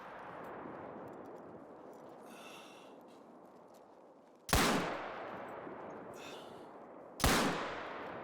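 Two sharp, loud shots from a .45 Rolleston handgun in the hunting game theHunter: Call of the Wild, about three seconds apart. Each shot is followed by a short decaying echo over steady outdoor ambience.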